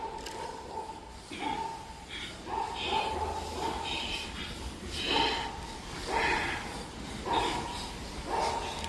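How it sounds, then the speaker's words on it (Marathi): Fast, forceful breathing during anulom vilom yoga practice, with rhythmic sharp nasal exhalations repeating roughly every second, close and steady over a quiet room. "आता स्पीडली करा"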